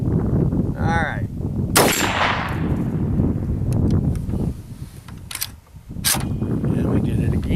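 An AK rifle fitted with a KNS adjustable gas piston fires several sharp, loud shots outdoors, spaced irregularly, with someone talking between them.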